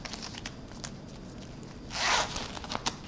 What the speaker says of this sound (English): this center area, which has two zippers